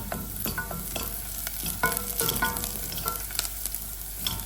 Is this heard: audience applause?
no